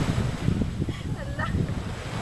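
Sea at Anda Beach: a constant loud wash of surf and wind buffeting the microphone, with brief faint voices in the background.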